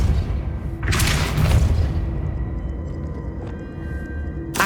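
A Depulso spell in Hogwarts Legacy strikes with a heavy booming impact, followed by a fading rumble and a softer thud near the end.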